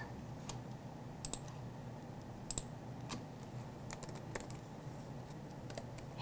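Computer keyboard typing during a Silhouette print-and-cut design session: a steady patter of soft key clicks with a few sharper, louder strikes scattered through, close and alone over faint room hum.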